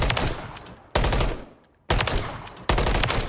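Rapid bursts of automatic gunfire in Call of Duty: Modern Warfare III, several sustained volleys separated by short pauses, loud and close.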